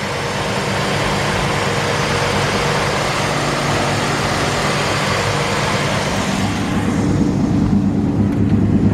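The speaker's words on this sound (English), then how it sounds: "at least you can hear the engine running" A 1947 Ford half-ton pickup truck engine idling steadily, with a constant low running drone under a broad hiss, heard alone with no talk.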